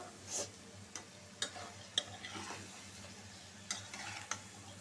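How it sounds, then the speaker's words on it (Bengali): Lau shak (bottle gourd greens) stalks stirred with spices in a pan, a soft steady sizzle broken by a few sharp scraping clicks of a utensil against the metal, close and fairly quiet. "আর এই যে লাউ শাকের সেই ডাঁটাটা দিয়ে দিব। বিসমিল্লাহ। এখন মশলার সাথে ভালো করে মিশিয়ে নিই।"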